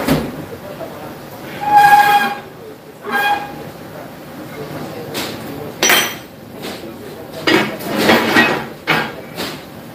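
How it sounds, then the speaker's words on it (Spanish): A hammer taps a metal support bracket for a Fuller 14710 transmission, producing several sharp ringing metallic strikes spaced irregularly, with short clanks and bursts of clatter in between. "El doble lo podemos hacer a golpecito con el martillo"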